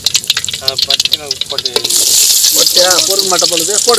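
Onions drop into a hot pan and a loud, hissing sizzle bursts out partway through, then carries on steadily beneath several people chatting in a home kitchen.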